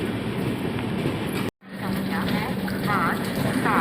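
A passenger train on the Amrapali Express route rumbles along with steady rail noise and a faint hiss, broken by a brief near-silent gap, while people talk over the running sound.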